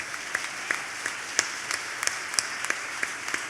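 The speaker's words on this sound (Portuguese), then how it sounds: "Mais uma vez aplaudo o Senhor Jesus" A church congregation applauding during a worship service, a soft, sustained patter of many hands clapping with occasional sharper claps standing out, heard from a distance.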